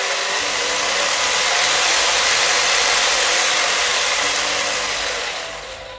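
An RGT EX86190 Toyota Land Cruiser LC76 RC crawler's electric motor drives slowly with high torque, giving a steady, close, breathy whir that holds evenly for several seconds and then eases off at the end.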